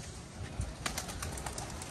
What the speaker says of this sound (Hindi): देखें कबूतर ऊपर नीचे आगे पीछे चिड़ी मारी हो रही है।